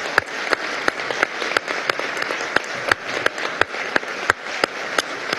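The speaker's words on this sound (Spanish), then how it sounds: "Vamos a darle, por favor, un fuerte aplauso." An audience at a communal parliament session claps in a loud, steady rhythmic beat, with sharp, evenly spaced claps over a continuous bed of applause.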